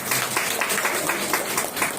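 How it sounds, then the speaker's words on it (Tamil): Audience applause at a Tamil cultural association pattimandram debate event in Neyveli: steady, dense clapping that fills the whole stretch at moderate loudness, with no talk over it. "ஒரு பெரிய கைத்தட்டல் கொடுத்தது"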